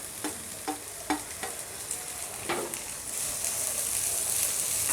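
Chopped onion and capsicum pieces stir-fried in a hot pan at home, a few distinct scrapes of the spatula early on, then a steady, brighter sizzle taking over, close and moderately loud with no talking.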